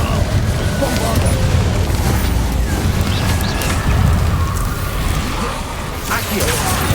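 A Bombarda blasting spell explodes in the video game Hogwarts Legacy with booming, rumbling blasts inside a dense, loud wash of combat noise, and a voice is present in the mix.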